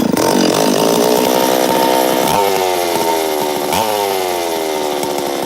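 A Stihl MS380 (038 Magnum) chainsaw running loud and close, a sustained high engine whine with pitch dipping and rising twice as the throttle shifts.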